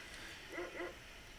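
A dog in the video game Secret of Evermore gives two quick, faint barks in succession over a quiet game background.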